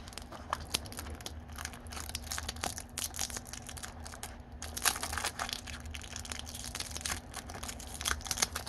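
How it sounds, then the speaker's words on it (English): Yellow tape being peeled and crinkled off a Spektrum smart LiPo battery, close-up crackling and tearing in irregular bursts over a faint steady hum, with no talking. "Let's get this yellow tape off of it."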